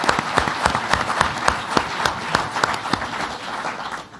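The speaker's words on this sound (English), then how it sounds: "Let's give him a round of applause, Marty Olivieri." Applause from an audience at a public event with a governor, steady dense clapping with sharp individual claps standing out, fairly close and filling the whole stretch without speech.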